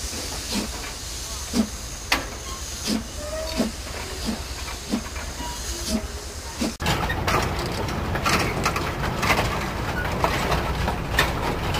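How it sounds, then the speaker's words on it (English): Rhythmic clanks from a brickworks clay train in China rolling slowly at first, then a sudden loud rush of hissing steam and rumbling as it pulls away. "the train is on its way back for more clay"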